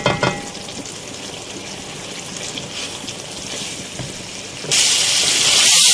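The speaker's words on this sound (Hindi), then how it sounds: "यहाँ हम इसको भून रहे हैं अच्छी तरह से अरवियाँ और ये हरी मिर्ची डाल के" Taro root pieces and green chilies fry in hot oil in a pan, a steady crackling sizzle with light stirring, ending in a sudden louder burst of spitting oil.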